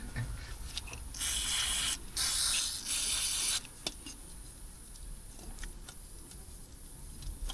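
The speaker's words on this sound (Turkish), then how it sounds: "Balata sprey işte." Brake cleaner hisses out of a spray can in three loud, close bursts of about a second each during variator maintenance on a 2020 Honda Forza 250 scooter, followed by quiet workshop ambience with faint ticks.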